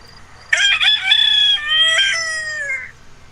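A rooster crows once from a played recording, loud and close, a long cock-a-doodle-doo lasting over two seconds that stands alone against a quiet background.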